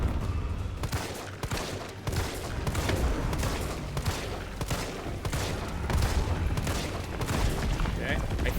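Repeated gunshots ring out in the survival-horror game Resident Evil 3 Remake, a steady run of sharp close shots with rumbling booms beneath, and a voice talking at moments.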